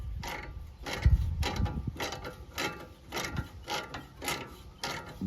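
An old-school ratchet wrench clicks in repeated bursts of ratcheting, close and fairly quiet, with a steady rhythm of about a dozen strokes while working on a 1st-gen Toyota Tacoma level kit install.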